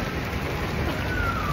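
Steady rain falls in Hong Kong on a wet day, a dense even hiss of drops filling the clip at moderate level with no break, and no voices over it.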